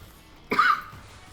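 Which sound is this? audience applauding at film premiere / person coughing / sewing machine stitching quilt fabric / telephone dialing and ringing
person coughing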